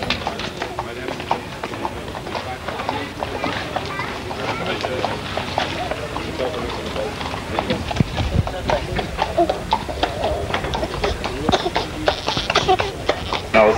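Horses trot at a 1983 harness race on the short track in Gouda, their hooves clip-clopping in a quick, irregular patter over crowd murmur and announcer talk.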